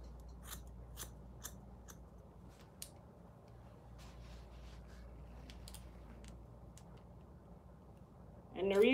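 Scissors snip through short natural hair, a series of faint, crisp, close snips spaced about half a second to a second apart over a low background hum.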